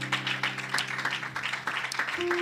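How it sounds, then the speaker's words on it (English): A church congregation clapping their hands together in worship, a dense, fairly quiet patter of many hands that keeps going steadily, with a sustained organ-like tone humming underneath. "can we clap our hands unto the Lord?"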